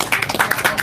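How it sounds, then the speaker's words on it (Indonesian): Brief burst of scattered applause from an audience at a halal bihalal gathering with activist figures, a short patter of hand claps. "Tepuk tangan buat Bang Rustam dulu."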